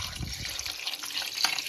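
Water being poured into a cooking pot while making wazz kokur: a continuous splashing, gurgling stream of liquid, fairly quiet and close, with no voices.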